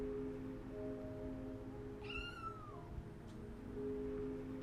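A single clear, drawn-out kitten meow rises and falls midway through, heard in a quiet cat rescue nursery room in New York City over a low background hum.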